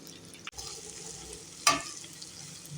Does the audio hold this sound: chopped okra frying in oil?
yes